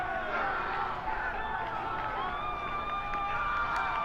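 Crowd of high school soccer fans and players cheering and shouting at the end of a St. Joe's versus Don Bosco Prep match, a steady, dense roar of voices and whoops with some distant talk.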